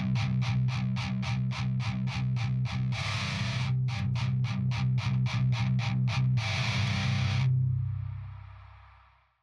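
Heavily distorted electric guitar through an STL Tones Nad impulse response, playing rapid palm-muted chugs, broken by two longer sustained strums, then ringing out and fading.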